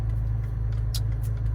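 A Lexus IS250 engine idles steadily after a tune, a constant low rumble close by with no speech over it and a brief faint hiss midway.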